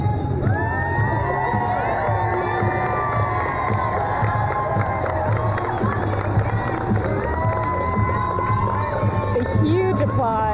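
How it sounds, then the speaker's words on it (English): A large crowd cheers, whoops and claps steadily throughout, with children's high shouts rising above the roar as a boy whose wish is to be a garbage man is celebrated. "A huge applause."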